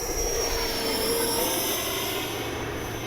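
An E-flite 70mm Viper RC jet with an electric ducted fan flies past, its loud, steady whooshing whine holding with a faint pitch glide and no voices over it.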